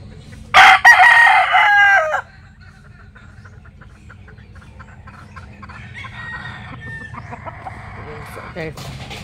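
A Sweater breed gamefowl rooster crows once, loud and close, a harsh drawn-out call lasting about two seconds, followed by quieter farmyard clucks and rustling.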